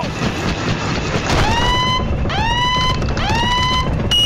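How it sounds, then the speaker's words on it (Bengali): A tank being driven gives off a dense, loud mechanical rumble, overlaid by three rising whines like an engine revving up in quick succession. "কে চালাচ্ছে ট্যাঙ্কটা?"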